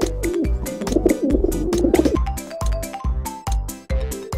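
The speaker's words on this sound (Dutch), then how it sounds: "Vogel." A bird coos in a children's Dutch lesson, its soft, repeated calls set against a loud, rhythmic music track with a thumping beat, no voices heard.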